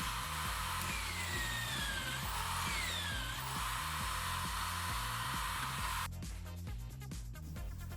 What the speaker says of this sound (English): Now with a hole saw I cut the wheel.